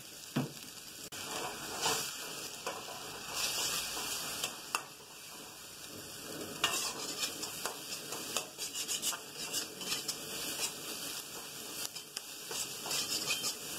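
Egg stir-frying in a hot wok for a Peruvian chifa dish: a faint, steady sizzle with scraping and stirring strokes rising and falling throughout, with no voices.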